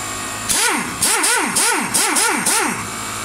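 Max AK1230E2 high-pressure air compressor, a used Japanese unit, running nearby at a loud level with a rhythmic, pulsing whine that rises and falls about twice per second.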